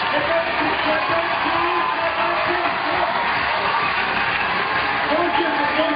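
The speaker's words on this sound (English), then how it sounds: "You can hear the roar from the crowd. It's massive for the Austrian." A large crowd roars and cheers at an Innsbruck bouldering World Cup final as Austrian climber Jakob Schubert goes for the top, a dense continuous wall of noise with commentary voices over it.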